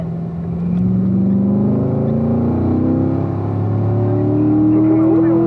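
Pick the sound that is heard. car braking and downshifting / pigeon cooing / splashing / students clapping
car braking and downshifting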